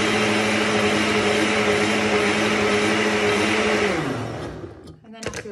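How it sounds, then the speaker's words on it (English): Ninja soup maker blender whirring loudly with a steady high motor drone, then winding down with falling pitch near the end, followed by a brief clatter and short pulse. "I always click the blend and I go with the pulse"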